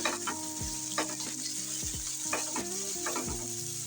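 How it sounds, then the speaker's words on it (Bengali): Spice paste frying in oil in a pan, giving a continuous close sizzle under a tonal background melody throughout. "পেস্টটা আমি ভালো করে তেলের সাথে ভেজে নেব লাল লাল করে।"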